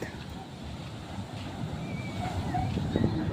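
Sea waves breaking at night near a beached fishing boat, a steady washing roar of surf with wind buffeting the microphone, continuous and fairly close throughout.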